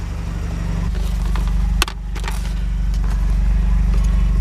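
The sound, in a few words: Mazda RX7 FD Type RS engine starting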